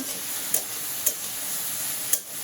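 A spicy vegetable curry sizzles steadily in a pan while a spoon stirs it in three separate scraping strokes, close and clear with no talking.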